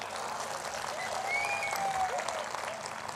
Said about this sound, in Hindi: तो फिर तालियां कौन बजाएगा?